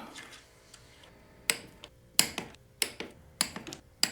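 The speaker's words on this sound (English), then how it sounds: "I want to make sure that I torque these down, and I torque this guy down too" Sharp, separate clicks sound at irregular intervals as a torque wrench tightens bolts on a motorcycle during a performance upgrade. They are close and crisp over a quiet background, with no speech.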